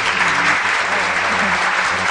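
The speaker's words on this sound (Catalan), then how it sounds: "A tots tres, un aplaudiment de benvinguda." A studio audience on a Catalan radio show applauds to welcome three theatre guests, a dense, steady burst of clapping that fills the whole moment at close range.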